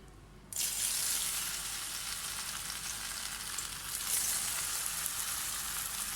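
Chicken aloo pakora frying in hot oil over medium heat, with a loud, continuous crackling sizzle that starts abruptly as the batter goes in and keeps bubbling steadily close by.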